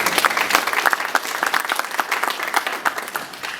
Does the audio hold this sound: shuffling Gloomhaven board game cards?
no